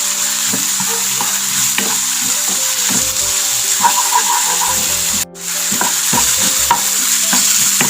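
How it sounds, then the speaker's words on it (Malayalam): Onions sautéing with ginger garlic paste in a pan for Kannur-style madakku pathiri, a steady sizzle broken by scraping stirs of a spoon, with one sharp clack midway. "അപ്പോൾ അതുവരെ നന്നായിട്ടൊന്ന് വഴറ്റാം."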